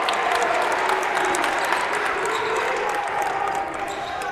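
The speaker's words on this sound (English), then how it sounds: "Crowd liking that." A basketball crowd at a high school game between Merrimack and Nashua North applauds and cheers steadily, a dense wash of clapping and voices that fades slightly near the end.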